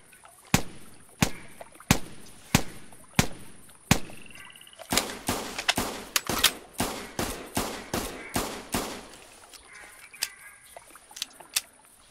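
Repeated sharp shots from a 16 gauge double-barrel shotgun, a steady series of evenly spaced cracks followed by a faster run of closer, louder blasts, then a few fainter ones at the end.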